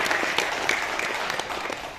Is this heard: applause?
yes